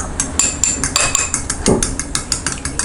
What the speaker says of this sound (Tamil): இதை வந்து நல்லா பீட் பண்ணிக்கலாம்.